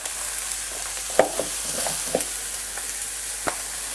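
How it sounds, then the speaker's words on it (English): Quinoa paella sizzles steadily in a hot pan while a spoon stirs it, with a few soft scrapes and clinks over the constant frying hiss. "Just stir that round so it gets coated in all the flavours"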